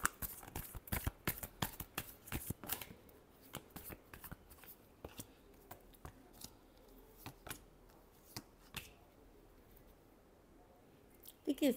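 Tarot cards being shuffled by hand in a final shuffle, a run of crisp, close riffling snaps and flicks in uneven bursts, quieter toward the end with a few sharp taps.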